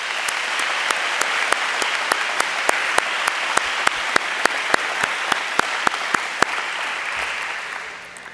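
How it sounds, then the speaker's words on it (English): Audience applause at a varsity sports recognition ceremony, a full steady roar of clapping punctuated by sharp, regularly spaced loud claps near the microphone, fading slightly at the end. "Let's give a round of applause for these amazing accomplishments."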